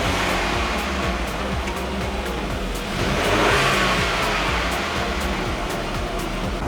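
Car engine revving in a few bursts during a wideband oxygen sensor lambda test, a steady mid-pitched drone that swells around the middle, loud and continuous with no talking.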